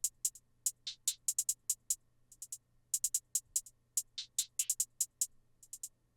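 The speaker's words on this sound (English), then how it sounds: "we have the hi-hat pattern, which is nothing too crazy." A crisp, bright FL Studio hi-hat pattern in a two-step groove, with quick ticking hits broken up by short stuttering rolls, playing alone over a faint low hum.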